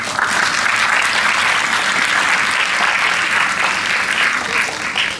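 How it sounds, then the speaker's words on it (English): Loud, sustained applause from an audience honoring the parents at a Penabur school ceremony, dense steady clapping filling the whole stretch without pause. "I think our parents also deserve a big round of applause from us."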